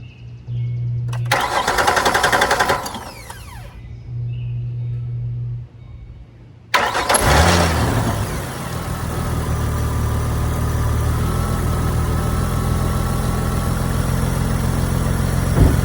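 A 2008 Ford Mustang cranks briefly, then fires up after a starter replacement and settles into a loud, steady idle that continues to the end, no voices.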